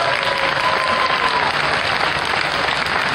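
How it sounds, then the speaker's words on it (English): Sustained, even applause from an audience at a goat show honoring the contestants, dense clapping that holds steady without pause. "give these guys a great big round of applause."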